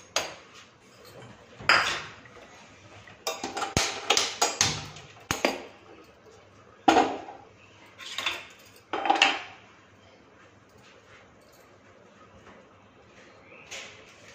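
Metal pans and utensils clank on a kitchen stove as a pan is set down to make a ghee tempering for a cabbage dish, with several sharp knocks and rattles in bursts separated by quiet pauses.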